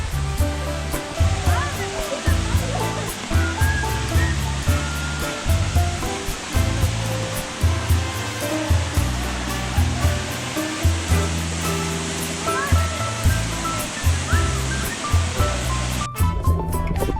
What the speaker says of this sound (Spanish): Es aquí donde encontramos una cascada, donde sus aguas son el deshielo del volcán